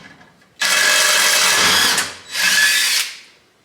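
Power drill whirring on a bolt on the front end of a Toyota Tacoma, two close loud bursts, the first about one and a half seconds long, the second shorter after a brief pause.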